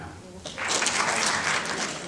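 Audience applause at the opening night welcome of the CAAMFest 2025 film festival rises after a quiet half second into steady, fairly loud clapping from a crowd that carries to the end.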